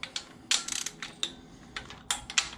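A torque wrench tightens the cylinder head nuts on an air-cooled Volkswagen engine, giving a few quick, close metallic ratcheting clicks in short bursts with brief pauses between them.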